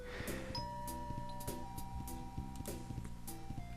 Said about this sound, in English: The bell rings and no one answers.